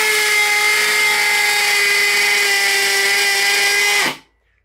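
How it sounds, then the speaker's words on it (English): Power drill in hammer mode driving a Torx-bit screw to make a pilot hole, a loud, steady high whine with a buzzing, toothed edge that holds for about four seconds and then abruptly stops. "What we're going to do is take that screw and create our pilot hole first and foremost."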